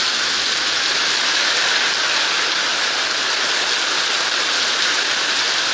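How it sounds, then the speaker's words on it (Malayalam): A heavy summer downpour roars without pause, a loud, unbroken wash of rain; no thunder or wind gusts stand out, and no voices are present. "കാറ്റും ഇടിയും മിന്നലും ഒക്കെയായി ഒരു കോലാഹലത്തോടെയാണ് ഇന്നത്തെ വേനൽ മഴ എത്തിയത്"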